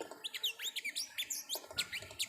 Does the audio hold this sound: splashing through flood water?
no